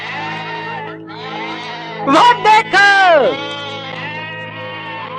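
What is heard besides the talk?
goat bleating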